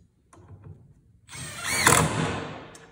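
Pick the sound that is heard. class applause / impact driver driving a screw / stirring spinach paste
impact driver driving a screw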